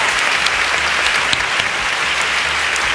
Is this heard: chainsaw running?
no